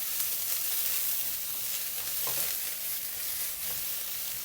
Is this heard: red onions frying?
yes